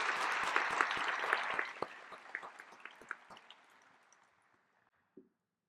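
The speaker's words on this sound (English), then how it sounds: "If we could give them a round of applause." Applause from a graduation audience honoring Montgomery County Fire and Rescue, starting as a dense patter of clapping that thins to scattered claps and fades out, with one last clap near the end.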